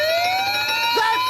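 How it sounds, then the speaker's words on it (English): An alarm clock's loud, continuous electronic alarm tone that creeps slightly upward in pitch, with a short lower blip near the end. "the alarm! In case you don't want the radio to wake you up"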